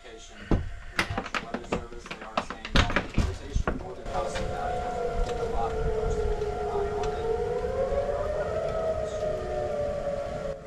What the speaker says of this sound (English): I don't know if you guys can pick up those sirens going off